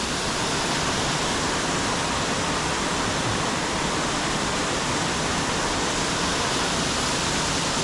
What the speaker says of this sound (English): I reckon that these falls are around 25 to 30 feet,